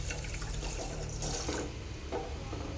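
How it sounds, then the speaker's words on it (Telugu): Water runs and splashes into a pan of sugar to make syrup, a soft trickling pour that swells and fades in short spells at a quiet level. "ఇన్ని వాటర్ వేసిన"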